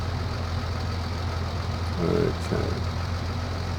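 Tractor engine idling steadily in Farming Simulator 2019, a constant low mechanical drone throughout, with a brief spoken word partway through.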